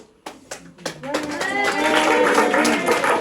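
An audience claps for a singer about to perform at a small show, scattered single claps at first that quickly swell into steady, close applause.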